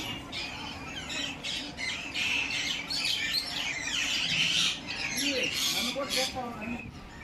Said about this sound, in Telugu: పక్షులు అయితే చాలా ఉన్నాయి చిలకలు చాలా గోలగోలగా భలేగా ఉన్నాయి